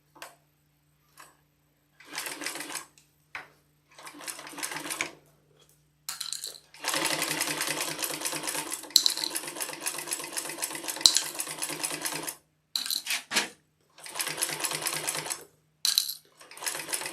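A sewing machine stitches a Rainier sewing project in bursts of rapid mechanical whirring and ticking, several short runs and one long sustained run, close and fairly loud with pauses between and no talking.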